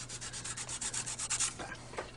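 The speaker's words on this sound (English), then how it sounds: "I'm going to start sanding this rust and corrosion off." Sandpaper scrubs rust and corrosion off a pinball machine circuit board in quick, even back-and-forth strokes, close up and steady.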